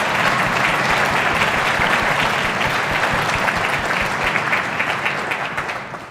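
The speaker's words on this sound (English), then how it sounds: "Let's give a round of applause for yourselves and for them." An audience claps at a school winter orchestra concert, a full, even burst of applause from a crowd lasting several seconds and gradually fading out.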